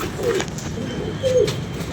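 Two wild pigeons cooing on a rooftop, giving two soft, low coos about a second apart, close and fairly quiet, with no speech.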